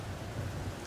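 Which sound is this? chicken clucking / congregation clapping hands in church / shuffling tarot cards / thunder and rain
thunder and rain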